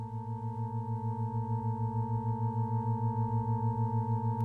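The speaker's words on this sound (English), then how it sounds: "This throbbing sound is called a beat." Two steady pure tones of nearly equal pitch combine into a smooth, regular throbbing that swells and fades several times per second at an even rhythm throughout.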